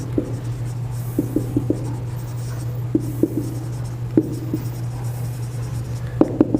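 Pen or chalk scratches out a physics equation in short irregular strokes and taps over a constant low electrical hum.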